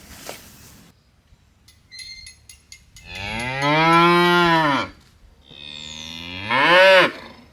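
Two loud, drawn-out cow moos during calf weaning along an electric fence line, the first long and sustained, the second shorter and rising, with faint clinks and quiet farm background between them.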